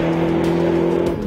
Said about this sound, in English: Just listen to how it spins its tires through second gear